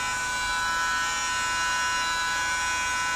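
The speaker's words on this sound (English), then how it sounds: "now let's turn on the vacuum and see if this works" A Wax Vac battery-powered ear cleaner vacuum runs with a steady, high-pitched electric buzz and whine, close and constant throughout with no talking.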